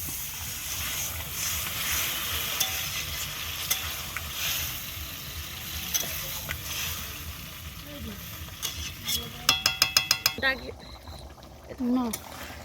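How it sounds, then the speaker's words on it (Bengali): Water is poured into a pan of spiced potato curry, setting off a loud sizzle and bubbling with stirring scrapes, while someone speaks over the cooking. "এবার এর মধ্যে কিছুটা জল দিয়ে দেবো"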